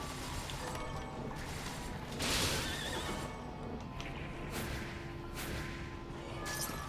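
Horses neigh and whinny again and again in Bloodstained: Ritual of the Night, loud against continuous game ambience, with a sharp crash-like burst partway through and light hoofbeats.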